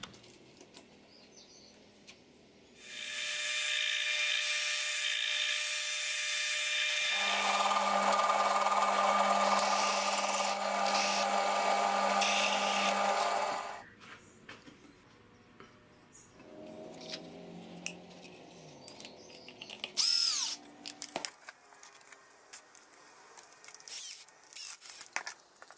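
A power drill driving screws through wooden watch case templates into an MDF board with slots, a steady whirring run of about ten seconds that shifts pitch midway, followed by scattered clicks and handling knocks.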